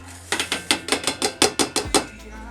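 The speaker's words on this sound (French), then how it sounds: "on commence par allumer le feu, je le mets à feu fort" A gas stove burner is turned to high heat: about a dozen quick, sharp ignition clicks in a steady rhythm, then a low whoosh as the flame catches, heard close and alone.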